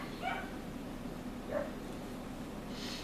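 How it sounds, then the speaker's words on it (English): Dogs bark outdoors at a distance, a few faint yips and barks spread over a few seconds with a quiet background. "Please excuse the dogs outside."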